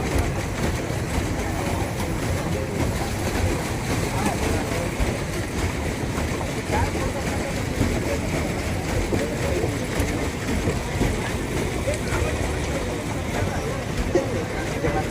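A boat crosses Silver Lake at the Lal Bahadur Shastri reservoir in Almatti with a steady, moderate rumble of engine and water, while people talk over it the whole time.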